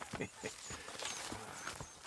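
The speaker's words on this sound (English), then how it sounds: "Horses will pull it clean down." Horses walking with clopping hooves in Red Dead Redemption 2, steady irregular hoof falls close by under continuous talk and background game ambience.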